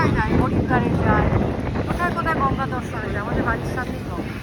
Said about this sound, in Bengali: কি হাওয়া বাপরে